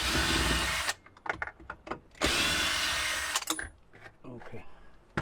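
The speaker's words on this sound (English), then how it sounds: "Get the drill in there." A power drill backs screws out of a micro campervan's interior fittings, whirring in two sustained bursts with clattering and handling knocks between them.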